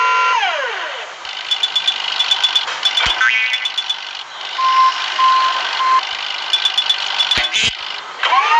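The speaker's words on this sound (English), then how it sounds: "Move the wrecking ball up and down, then pull it back and let go to swing it." Cartoonish video game sounds from a wrecking ball crane truck: repeated electronic reversing beeps, springy boing tones and rattling clunks, loud and close, with no talk.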